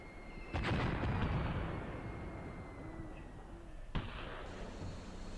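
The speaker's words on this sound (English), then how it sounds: "There's more firing coming from over here, I think." Distant gunfire in the Graviteam Tactics war game on a night raid: a muffled cluster of shots and rumble near the start, then a single sharp crack later, over a low steady battlefield hum.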